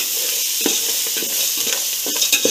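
Salt being stirred into a tempering in a pan for podi atukulu (flattened rice), with steady scraping strokes over a continuous sizzle, close and fairly loud, no voices.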